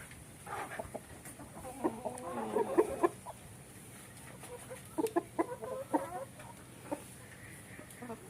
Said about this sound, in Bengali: মোটামুটি এখানে চৌত্রিশটা মোরগ আছে